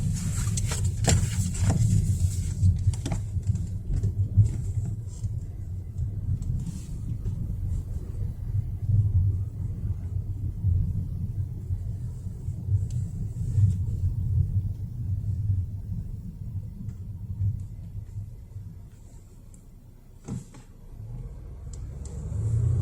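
A Volvo S90 accelerates on a snowy road in Dallas, Texas, its low engine and road rumble heard from inside the cabin, steady and muted, with a few brief clicks and knocks.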